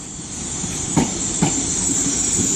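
A Class 800 IET train at Exeter St David's station, giving a loud, steady engine drone and hiss with a couple of brief knocks.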